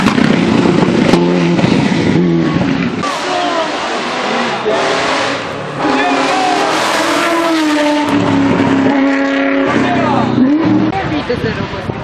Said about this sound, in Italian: La Ferrari.